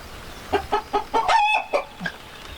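An Estonian native breed rooster clucks in a rhythmic series of sharp calls, then lets out a short crow, close and loud.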